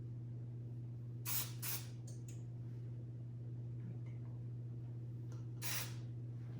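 Two short hissing sprays of baking spray into a cake pan, then a longer one a few seconds later, over a steady low mechanical hum.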